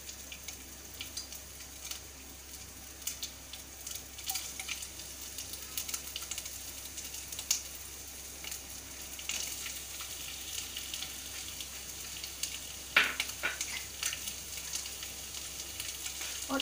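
Mashed boiled potatoes frying in a pan for dabeli filling, a soft continuous sizzle with faint scraping and stirring clicks, close but quiet.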